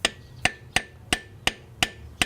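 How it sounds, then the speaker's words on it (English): A hammer or mallet taps a crankshaft seal into place on a bi-turbo Audi engine during timing belt work, seven steady, evenly paced sharp knocks with a faint metallic ring, close and clear. "with the help of a hammer or a mallet, gently start tapping this in."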